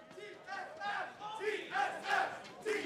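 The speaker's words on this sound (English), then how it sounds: "You can hear the roars of the crowd." An esports arena crowd at a 2019 LCS Spring match between TSM and FlyQuest roars and chants in swelling waves, loud and full with voices blending into a cheering mass.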